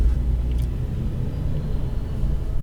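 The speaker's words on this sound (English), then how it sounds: "this car makes a lot of noise" A NASCAR race car engine rumbles loud and steady from inside the car, a continuous low drone that cuts off abruptly at the end.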